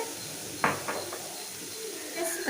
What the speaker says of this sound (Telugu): ఈ క్యాప్సికమ్ సాఫ్ట్గా ఎంతవరకు ఫ్రై చేసుకోవాలి